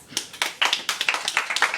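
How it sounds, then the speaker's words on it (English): Scattered claps from a small audience at a dinner event on bullying, a short uneven burst of hands striking close by without talk. "Who said something to try to stop it? Round of applause."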